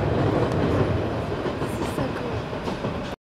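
A Paris metro train passes overhead on an elevated line, a loud, steady rolling rumble close by that fills the whole moment and cuts off abruptly at the end.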